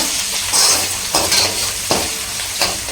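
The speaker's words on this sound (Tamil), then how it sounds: "சின்ன வெங்காயம் நல்லா வதங்கட்டும்" Small shallots sautéing in a pan over moderate heat for a fish chukka, a steady sizzle broken by several stirring scrapes, close and fairly loud with no talking.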